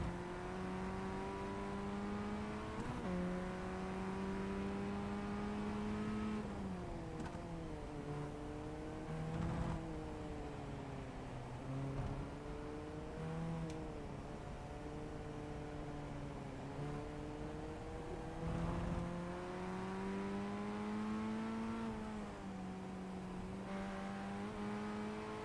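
Formula Ford 1600 race car lapping Okayama circuit, engine droning steadily with repeated rises and falls in pitch as it shifts and revs, heard from onboard, loud and continuous.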